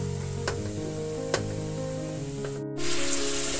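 Ginger, garlic and green chili paste fries in hot oil with browned onions, giving a steady close sizzle with a few faint ticks and stirring scrapes, the hiss briefly cutting out and returning louder near the end.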